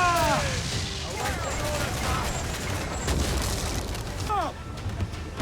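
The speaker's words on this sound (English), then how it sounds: "He's lobbing mortar shot on us." Mortar fire from an enemy ship in Assassin's Creed 4 Black Flag: heavy booming naval shot blasts rumble through a dense battle din at sea, with shouting voices layered over the cannon noise.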